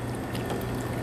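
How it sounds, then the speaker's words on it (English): Water pours steadily out of a pot while cooking a steak sandwich, a continuous close splashing rush with no breaks and no talking. "Go ahead and pour the water out."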